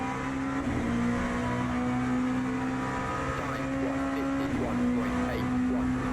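A race car engine in Le Mans Ultimate drones steadily with rising and falling pitch sweeps as it gains on traffic, with a nearby voice talking over it.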